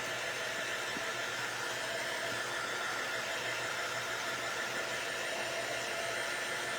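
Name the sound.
hair dryer drying craft shims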